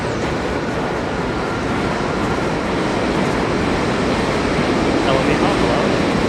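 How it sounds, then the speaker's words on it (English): J train crossing the Williamsburg Bridge in New York City, a loud, continuous broadband rumble and rattle of the subway cars that stays steady throughout, heard from close by on the street. "J train's already making its way across."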